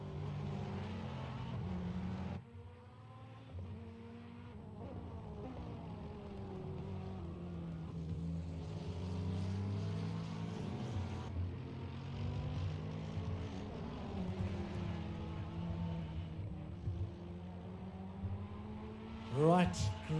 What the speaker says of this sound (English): Let's listen to this Ferrari come through.